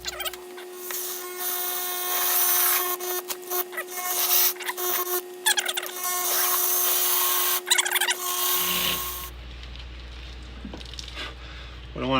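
Drill boring a hole through a plastic arm rest cup holder for an '89 Jeep XJ, clamped in a leg vise, a loud grinding whine with short pauses, then the motor stops and only faint room noise remains.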